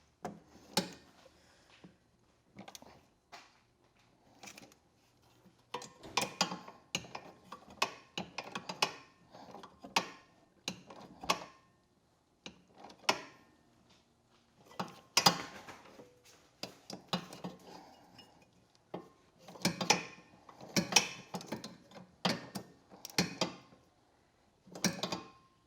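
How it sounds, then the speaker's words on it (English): Bolts are tightened during a power steering install on an Ace 570, with repeated ratcheting clicks and metallic clanks in irregular bursts, close up and moderately quiet, with pauses between runs. "Now I'm going to go ahead and tighten these ones down."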